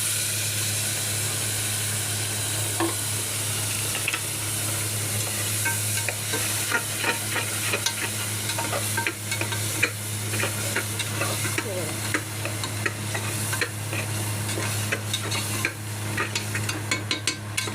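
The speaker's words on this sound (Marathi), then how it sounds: "पहिला मी टाकणार थोडा कांदा वाटलेला" Ground onion paste fries with a steady, close sizzle in a pan for dum biryani, while a spoon stirs and scrapes through it in frequent light clicks and taps.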